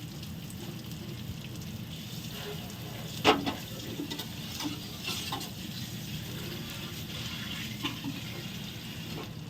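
Boiled chana dal is tempered in hot spiced oil, giving a soft continuous sizzle with occasional stirring scrapes and one louder clatter, recorded close with no talking.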